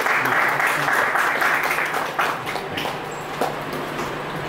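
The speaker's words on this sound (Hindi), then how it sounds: "जोरदार तालियां सर के लिए" A crowd at an awards ceremony claps loudly at first, and the applause gradually thins and fades toward the end.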